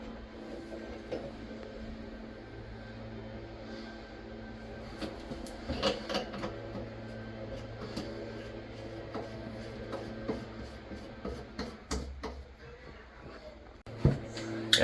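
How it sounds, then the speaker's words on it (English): A 3/8 supply line being threaded by hand onto a toilet angle stop: faint scraping and light clicking taps, irregular and close, growing into a few sharper knocks toward the end over a low steady background. "we'll go ahead and thread on the 3/8"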